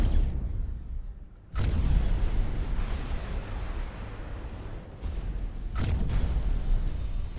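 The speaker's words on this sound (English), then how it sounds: "Explosion imminent." Booming blasts rip through a space video game, two sharp onsets followed by sustained rumbling roar, loud and close with no voices.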